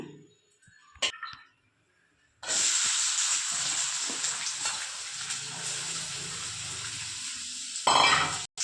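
Prawns frying in oil in a kadai: after a quiet start with a couple of clinks, a loud, steady sizzle sets in and runs for about five seconds, swelling briefly near the end.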